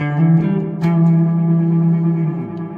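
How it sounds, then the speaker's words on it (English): A sustained electric guitar chord held in a steady loop by a delay pedal, droning evenly with a slight shimmer and one brief pluck near the start. "I've got the hold function, which basically creates like a little loop"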